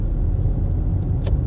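Low engine rumble from a car during a driving lesson in Madrid, heard from inside as a steady loud drone with a brief faint higher sound near the end and no talking.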